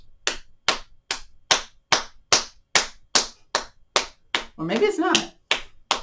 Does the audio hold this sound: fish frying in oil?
no